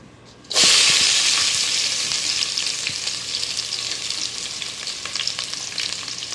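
Sliced onion and green chili hit hot oil with a sudden loud sizzle that begins after a brief quiet start, then settles into a steady, bright frying hiss with occasional crackles and stirring.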